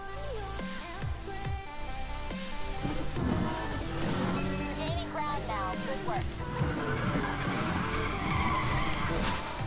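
Tires skid and squeal continuously over a racing car engine in the driving video game Need for Speed The Run, on an expressway course in Beaver Valley, Pennsylvania, loud and sustained with shifting engine pitch.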